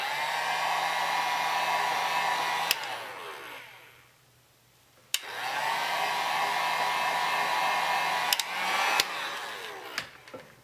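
A heat tool warms a resin drip on a tumbler, giving a loud, steady blowing whir that cuts out briefly, then starts again, with a few clicks as it is switched.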